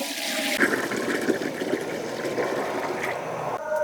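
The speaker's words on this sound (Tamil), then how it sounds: "சட்டியை ஏற்றிக்கிடுவோம் தண்ணியை ஊற்றிக்கிடுவோம்" Water splashes steadily into a cooking pot on a stove, poured in a continuous stream for about three seconds before it stops.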